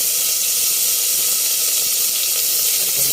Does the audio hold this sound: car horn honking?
no